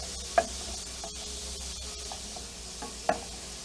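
Onions brown slowly in a pan over medium-low heat with a soft, quiet sizzle, broken by two sharp knocks of a utensil against the pan and a few light stirring scrapes.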